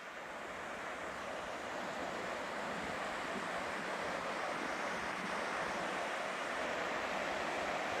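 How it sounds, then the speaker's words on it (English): A mountain creek runs from upper to lower Lamarck Lake, producing a loud, constant rushing roar with no breaks and no talking. "It's the creek coming from upper Lamarak Lake to lower Lamarak Lake."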